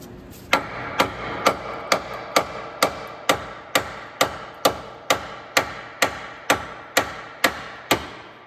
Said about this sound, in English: Might have to just hammer it just to get it to.